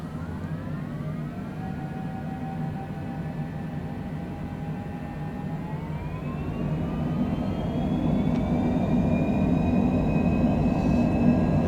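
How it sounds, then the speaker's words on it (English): Small airplane engine droning through a takeoff roll in gusty crosswind, loud and continuous from inside the cabin, its pitch stepping upward as power and speed build. "So we're going to get blown around here on this takeoff, I predict."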